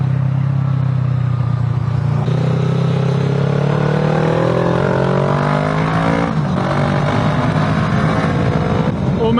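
A motorbike ridden on an Italian road toward Lake Como, its engine droning loud and steady throughout with rising revving tones as it accelerates, plus wind and road rumble, no voices.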